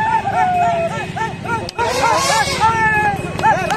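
A dog close by gives a run of short, high-pitched yips and whiny barks in a rapid, uneven rhythm, loud and up front, with a voice talking briefly alongside.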